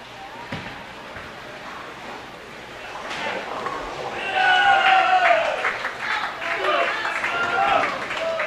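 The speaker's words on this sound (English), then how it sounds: "Hearing some cheering. I think it's from the Malaysians." Crowd cheering rises midway through at a women's bowling world championship, likely from Malaysian fans, building into sustained shouts and whoops at moderate distance over a busy bowling-centre ambience with talk.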